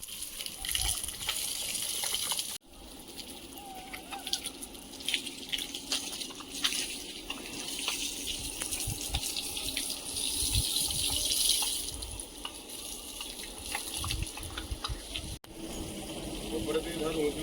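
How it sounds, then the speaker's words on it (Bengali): Water being poured and splashed over newly built brick walls of a house under construction to cure them, a steady gushing and splashing stream with drips, close and fairly loud, with speech over it. "প্রতিদিনের মতো আজও সকালবেলা ঘরে জল দেওয়ার কাজে ব্যস্ত হয়ে গেলাম।"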